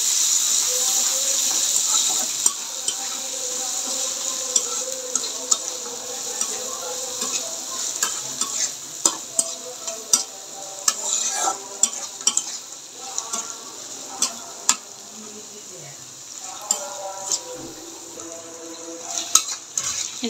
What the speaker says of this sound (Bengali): এই যে দেখুন পেঁয়াজটা হালকা ভাজা হয়ে নরম হয়ে আসতেছে